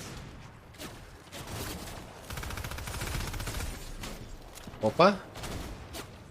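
Gunfire in a shooter video game, scattered shots and bursts spread through the clip with a sharper crack near the end, mixed under a voice talking.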